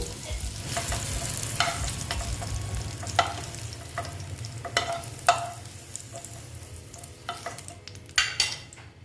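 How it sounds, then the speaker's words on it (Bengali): Potatoes fry in hot oil in a pan while a utensil stirs and scrapes them, giving a steady sizzle broken by repeated clinks and scraping knocks at an uneven rhythm, close up and with no talking. "আমার মোটামুটি আলু ভাজাটা হয়ে গেছে এবার আমি আলুগুলো তুলে নেব"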